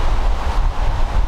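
Steady, loud wind buffeting the microphone outdoors near an old church, a dense low rumble with gusts swelling and easing throughout and no voices.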